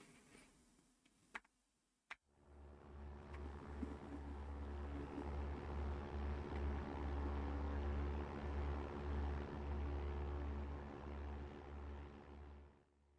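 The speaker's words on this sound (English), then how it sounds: "it's not the most accurate engine sound, but it works." A synthesized propeller plane engine from a Unity physics game prototype cuts in after a couple of clicks, a steady, loud, droning hum with a low buzzing pulse that runs unbroken.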